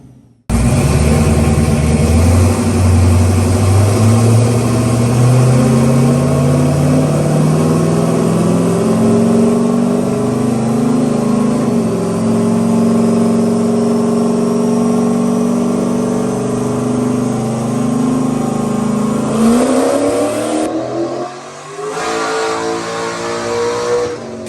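Turbocharged 5.3 V8 on a dyno pull at about 15 psi, a loud sustained roar climbing in pitch for roughly twenty seconds before cutting off, followed by turbo whoosh and a settling idle.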